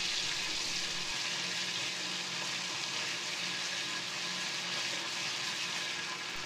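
A spoonful of ginger garlic paste sautés in a pan for a cauliflower stem dish, making a soft, even, continuous hissing sizzle with no voices.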